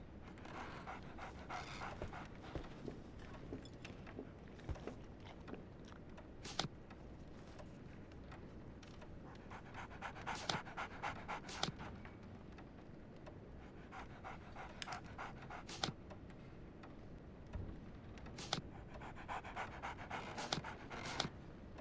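Dog panting in the Sherlock Holmes: The Awakened video game, steady rapid breaths running throughout with occasional louder sharp puffs and a faint whimper, close and alone with no talking.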